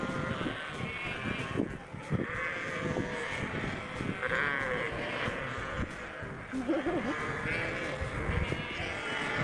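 Sheep bleat again and again over a busy farmyard background, the calls near and uneven, some overlapping.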